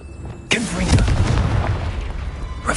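A Confringo fire spell bursts into a loud, close explosion with a sharp onset and a rumbling, crackling tail that lasts a couple of seconds in the Hogwarts Legacy game, followed by a brief second hit at the end.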